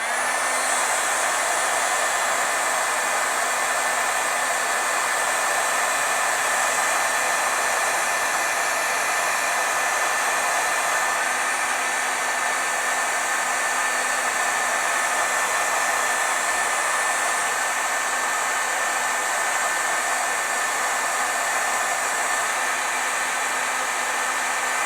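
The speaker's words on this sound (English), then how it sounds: "If you don't have a heat gun, you can use a hairdryer." A heat gun runs continuously while drying pigment ink on a stamped card, producing a steady, loud, close blowing whir with a constant hum tone that stays unchanged throughout, with no talking.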